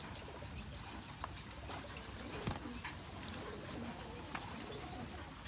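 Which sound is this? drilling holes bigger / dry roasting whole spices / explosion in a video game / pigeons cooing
pigeons cooing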